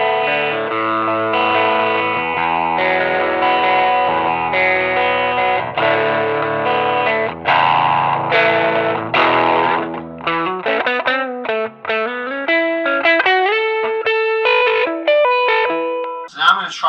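A baritone electric guitar, middle pickup position, through a Tumnus overdrive pedal, plays overdriven chords that ring out, then shifts to single notes and short melodic runs, gritty and sustained.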